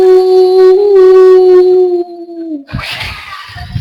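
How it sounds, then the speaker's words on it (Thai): A dog howls loudly and close by in one long, sustained, wavering tone lasting about two seconds, trailing off before rougher, noisier sounds take over. "อันนี้มันเห่าผี"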